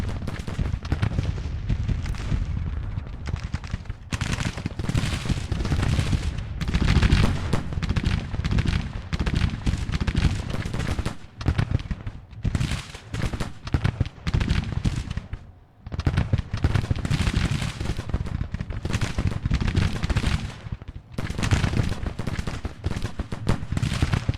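Civil War battle gunfire in the Grand Tactician strategy game: loud, sustained volleys of massed musket and artillery fire crackling in long bursts with short lulls between them.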